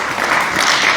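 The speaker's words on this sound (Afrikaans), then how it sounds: "Kan jy Here hande klap gee terwyl U sitplekke neem." A church congregation claps hands in a brief, dense burst of applause while taking their seats, steady and fairly loud throughout the short moment.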